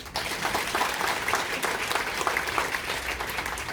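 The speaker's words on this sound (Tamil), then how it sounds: "அவர்களுக்கு ஒரு பலத்த கைத்தட்டல்" Loud, sustained applause from an audience honoring an elderly speaker at a tribute event for a master teacher, dense clapping throughout at a moderate distance.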